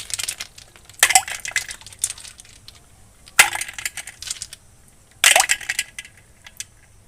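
Snails tipped into a black cooking pot at a home kitchen in Bengal, giving three bursts of hard clattering and clinking shells against the pot, each lasting about a second, close and fairly loud with quiet gaps between.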